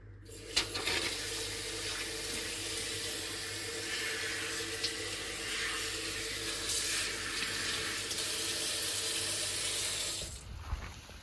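Water runs steadily from a tap while the seat of a 1992 Honda XLR Baja motorcycle is scrubbed, a continuous close splashing wash that stops abruptly near the end.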